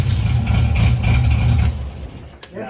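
A 1967 Triumph Spitfire Mk II with starting trouble idles nearby with a loud, low rumble for about two seconds, then the engine noise drops away, leaving quieter background sound.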